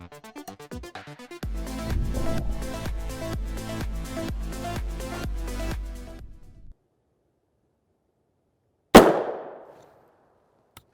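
One sharp, loud crack of a 5.7x28mm round fired from a 5.2-inch barrel comes after several seconds of unrelated rhythmic sound and a pause, with a short decaying tail.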